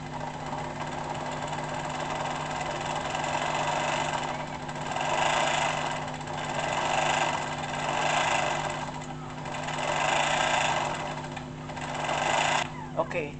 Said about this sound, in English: once your bobbin is full, it will stop spinning.